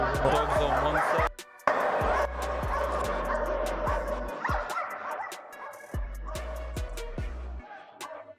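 Dogs bark and yip in a chaotic crowd scene at a watch release, with a series of short, sharp barks and whimpers scattered among raised voices and background commotion.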